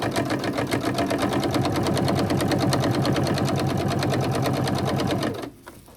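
A sewing machine stitches a seam on a handmade gift, running in a steady fast rhythmic whir close by for about five seconds before stopping abruptly.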